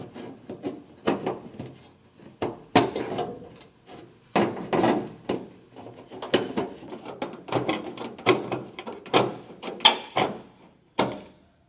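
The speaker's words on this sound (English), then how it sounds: "I'm just using a pair of tin snips for this." Tin snips make a series of sharp, irregular crunching snips while cutting sheet material during a hidden hitch receiver install on a 2025 Volvo XC90. The cuts come close and distinct, with quiet pauses between them.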